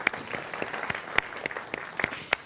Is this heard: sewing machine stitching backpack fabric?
no